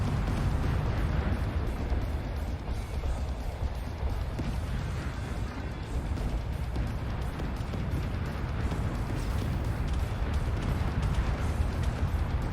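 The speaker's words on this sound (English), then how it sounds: "Just swarms of missiles and cannon fire coming in on him." Dense, continuous rumbling barrage of missile impacts and cannon fire pounding a spaceship in the Starcore space combat game, a loud, unbroken roar of overlapping blasts lasting several seconds with no talking.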